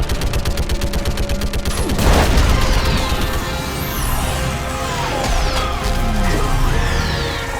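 Sustained Mass Effect 3 battle gunfire, dense overlapping shots and bursts with a heavy boom near two seconds, continuing loud and busy alongside sci-fi combat effects throughout.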